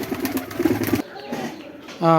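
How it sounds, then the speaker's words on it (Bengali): Pakistani pigeons in cages coo in soft, throaty pulses close by, while someone talks over and between the calls. "এর মধ্যেও রয়েছে তার প্রচুর পরিমাণে কবুতর"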